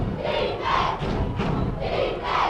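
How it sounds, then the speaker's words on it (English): Vocal crowd at a high school boys basketball game at Fort Dodge, roaring in loud rolling swells that rise and fall almost without break. "Very vocal crowd, Fort Dodge here tonight"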